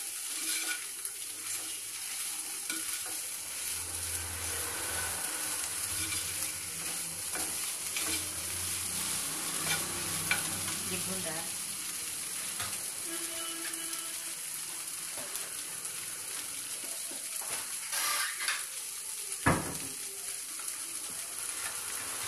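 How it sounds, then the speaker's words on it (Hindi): Flour stirred and fried together with corn and mushrooms in a pan makes a continuous close sizzle, with repeated scraping stirs and the occasional clink of a utensil on metal along the way. "इसको आप चला दीजिए अच्छे से, जिससे ये मैदा भी भून जाए"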